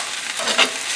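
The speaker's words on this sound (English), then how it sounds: "Oh, sorry about the scraping there." Spatula scraping a pan while spinach is stirred with garlic, a continuous soft scraping and sizzling with a brief louder scrape near the middle, close and alone.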